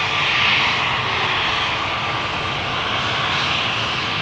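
A KLM Embraer 190 jet roars steadily at an airport runway, its engine noise loud, broad and continuous throughout with no voices.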